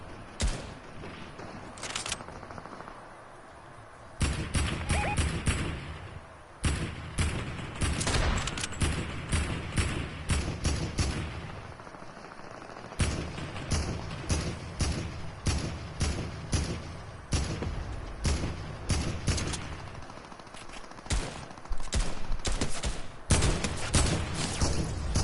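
Gunfire in the video game Fortnite sounds as dense rapid volleys of sharp shots, fairly quiet overall, with repeated pulsing bursts and brief lulls across the stretch and no voices.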